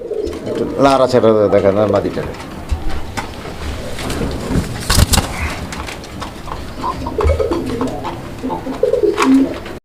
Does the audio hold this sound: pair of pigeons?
yes